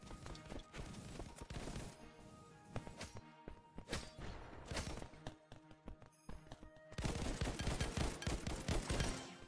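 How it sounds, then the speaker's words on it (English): Shotgun blasts in the online shooter ev.io land as loud, sharp bursts among dense game noise and music, with several heavy reports spread across the scene and a thick cluster of rapid shots near the end. "Oh, that's that shotgun."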